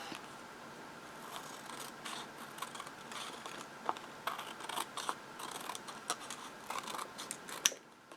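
Scissors trim the edges of a paper decoration on a handmade junk journal, giving faint, close snips and rustles in an irregular, quiet rhythm.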